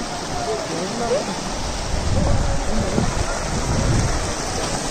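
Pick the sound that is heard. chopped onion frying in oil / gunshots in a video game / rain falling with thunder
rain falling with thunder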